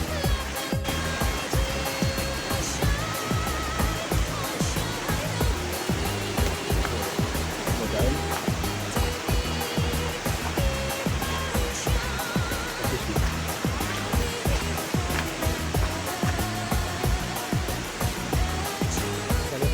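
Sendang Gile waterfall in Lombok, a loud, steady broadband rush of falling water that fills the whole scene without pause.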